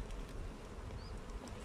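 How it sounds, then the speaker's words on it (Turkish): Honey bees buzzing during a hive inspection, many young newly emerged bees clinging to the frames; a faint, continuous close hum with no voices. "Evet, taze yeni çıkan arılardan oluşuyor."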